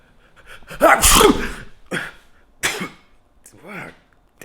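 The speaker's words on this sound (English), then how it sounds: "How many more times you gonna sneeze?" A loud, close sneeze bursts out, followed by a couple of shorter sneezes or coughs with quiet breathing and brief voiced sounds between them.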